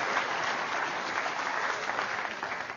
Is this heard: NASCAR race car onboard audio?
no